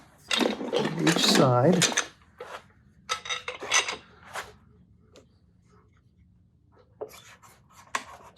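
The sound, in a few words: cam clamps clamping a board down to a workbench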